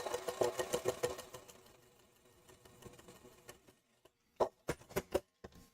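A sewing machine stitches a quarter-inch quilt seam in rapid rhythmic bursts, stopping briefly, then running again in short spurts, close and fairly quiet.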